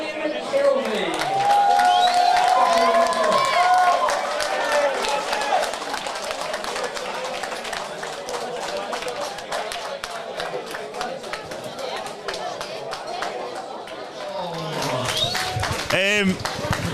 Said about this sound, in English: Ladies and gentlemen, keep your applause room for his opponent